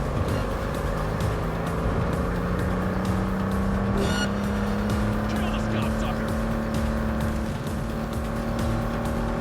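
Engine drone of a slow car driven in Cyberpunk 2077, a steady hum rising gently in pitch with traffic noise around it and some speech over it.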